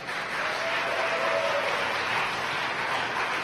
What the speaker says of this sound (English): You can hear the applause at SpaceX.